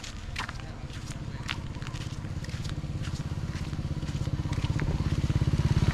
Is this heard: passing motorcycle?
yes